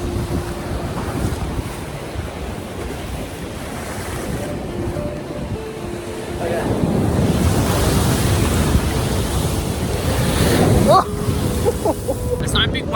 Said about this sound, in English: Alright, there's a wave coming.